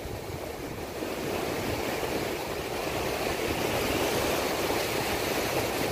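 Surf washes steadily onto Praia da Armação beach in Penha, Brazil, a continuous broad roar of waves, loud and unbroken, with no distinct voices.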